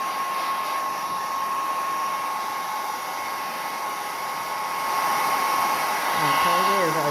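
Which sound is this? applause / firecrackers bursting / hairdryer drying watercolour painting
hairdryer drying watercolour painting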